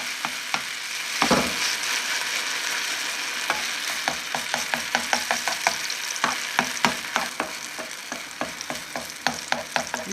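A vegetarian steak fries in hot olive oil in a pan, giving a steady close sizzle broken by frequent sharp crackles and pops across the whole stretch, with no voices.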